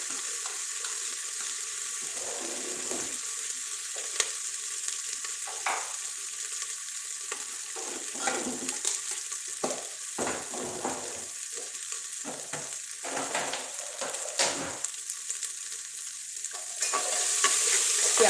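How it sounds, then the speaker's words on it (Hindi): Onions with ginger-garlic paste frying in a pan, a steady sizzle under repeated spoon strokes and scrapes, close and continuous, the sizzle swelling louder near the end. "प्याज हमारा लगभग भून गया है"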